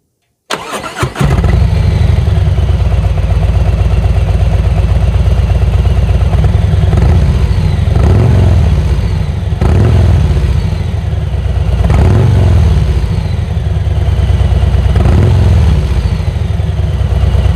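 A 2022 Harley-Davidson Street Glide ST with a 117 cubic inch (about 1920cc) V-twin engine and Reinhardt exhausts starts up after a short crank, then settles into a loud, close, lumpy idle with several gentle throttle blips.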